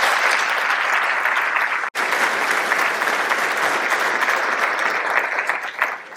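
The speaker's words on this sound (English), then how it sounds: "just a round of applause for these." A crowd at a military veterans Hall of Fame induction ceremony applauds the inductees, steady full clapping from many hands that fills the room and holds for several seconds before tapering slightly at the end.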